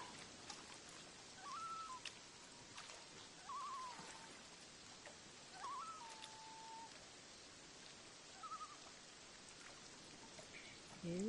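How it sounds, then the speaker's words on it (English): Constant rain in the fishing video game Reel Fishing, a faint steady hiss of falling drops with occasional bird chirps and brief low voice sounds over it. "Still raining. Constant rain."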